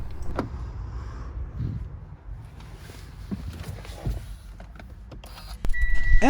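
A car's driver's door is unlocked and opened with a universal key emulator on a 2009–2020 Kia, Hyundai or Mitsubishi, producing quiet mechanical clicks and thuds, a brief electronic beep, and then a louder rush of outside noise as the door swings open.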